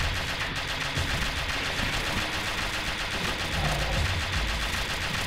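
Rapid, continuous gunfire in the video game Uktena 64 as a player shoots at bulbous plant growths, a dense loud rattle of shots running unbroken throughout with no voices.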